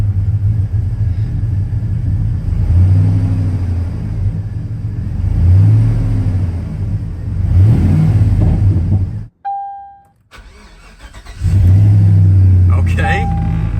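High-mileage truck engine idling roughly and revving in repeated swells, loud and close, with a brief cut to near silence before it rises again; people talk over it.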